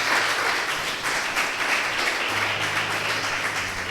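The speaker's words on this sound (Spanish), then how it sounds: "Dele un aplauso al Señor" Steady applause from a church congregation, dense and continuous throughout, with a faint low hum underneath and no talk over it.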